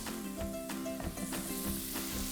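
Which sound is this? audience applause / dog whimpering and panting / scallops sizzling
scallops sizzling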